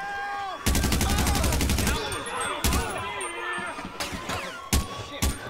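Rapid SMG gunfire in Grand Theft Auto 5, a loud sustained burst followed by scattered shorter bursts and single shots, with game sounds and voices in the background.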